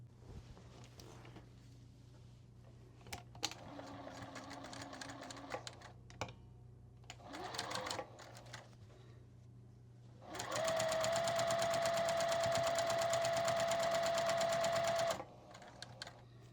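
A sewing machine stitches quilt strips from scrap fabric in short bursts with handling noises between, then runs in one long fast continuous whir for several seconds before stopping.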